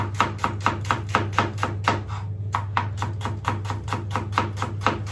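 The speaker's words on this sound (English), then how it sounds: "So I peeled and sliced onions. You slice it nice and thin." A knife thinly slicing peeled onions strikes the board in a fast, even rhythm, about twenty crisp close cuts with one short pause midway, and no voices.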